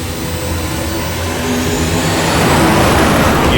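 A drone flies overhead, its steady whirring motor hum continuous and building slightly louder toward the end, heard alone without voices.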